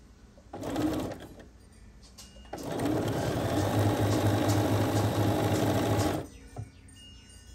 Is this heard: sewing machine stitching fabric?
yes